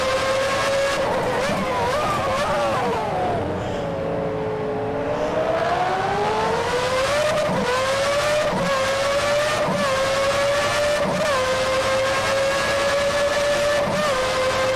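A 1990 McLaren MP4/5B Formula 1 car engine in the racing simulator rFactor 2 wails at high pitch, dipping through a downshift and climbing again as it revs through gear changes, loud and continuous without talk.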